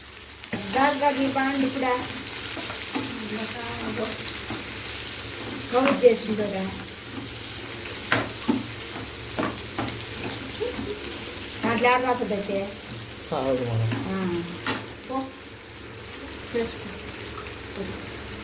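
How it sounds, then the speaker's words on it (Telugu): Chopped onion pieces and other ingredients for a restaurant-style prawn curry crackle and sizzle steadily in hot oil, with brief stirring clatters and a voice talking over the frying throughout. "అవి నూనెలో పడగానే చిటపటమని డ్యాన్స్ వేస్తాయి."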